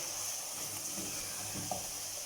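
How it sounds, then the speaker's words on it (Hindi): Chicken fries with mixed spices in a pan, giving a soft, faint sizzle with a few light stirring scrapes, no voices. "चिकन को मसाले के साथ अच्छी तरह फ्राई करेंगे"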